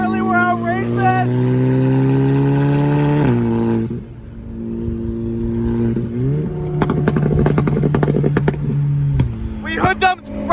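Car engines at a car show race and rev loudly up close, steady pitched engine tones rising and dropping in several surges with gear-change breaks, over crowd noise.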